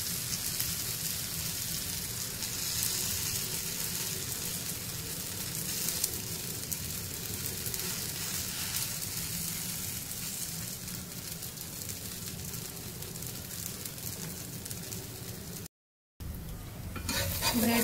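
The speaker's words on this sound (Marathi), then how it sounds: "दोन्ही साईडून आपल्याला असं खरपूस भाजून घ्यायचंय" Rava bread, spread with a semolina mixture, toasting in a pan, giving a steady, even sizzle that runs almost unbroken, with a brief cut near the end.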